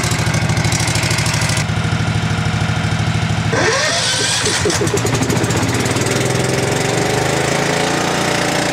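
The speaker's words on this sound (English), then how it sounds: "And we'll let it idle for a minute." Duct cleaning equipment's engine idles loudly and steadily nearby, a continuous chugging drone whose tone shifts partway through as air hissing joins in.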